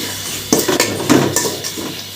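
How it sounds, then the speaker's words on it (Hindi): Peanuts tipped into a pan for dry roasting, a few close clattering rattles of hard kernels against metal, loud and brief, with no talking. "तो ये जी मैंने इसमें मूंगफली के दाने डाल दिए।"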